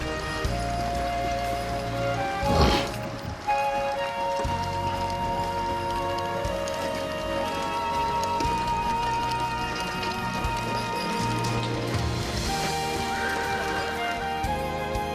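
Carriage horses unhitched from wagons are walked into a stable at Acadia National Park. A clear neigh rises early, over steady clip-clopping hooves and background ambience.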